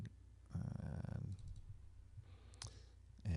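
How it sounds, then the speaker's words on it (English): Mouse clicks while saving in GiftWorks 2011 donor software: a few sharp, close clicks, mostly near the end, set against quiet room noise, with no talking. "And click on Save."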